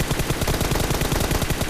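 Rapid automatic gunfire in the battle-royale game PUBG, a dense continuous burst of shots crackling loudly for under two seconds with no talking.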